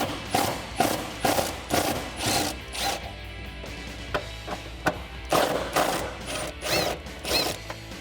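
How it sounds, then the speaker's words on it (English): A ratchet with an extension and 12mm socket works the lower airbox bolts on a 2016-2020 Toyota Tacoma 3.5L V6, making rhythmic bursts of close clicking with a short pause midway. "Now with an extension as well as a 12mm socket, we can remove the 2 bolts that are holding on the bottom of our airbox."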